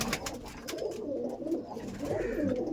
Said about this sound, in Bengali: পায়রাগুলো একটু দেখে রাখুন।